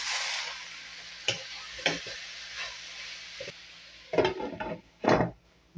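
Bitter gourd (ampalaya) hits a hot pan for sautéing, giving a soft sizzle under scattered spatula scrapes and knocks. Louder stirring bursts come in the last couple of seconds.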